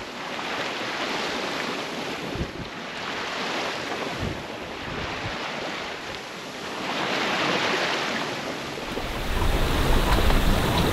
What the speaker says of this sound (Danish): De lover vind fra syd af, og det er der.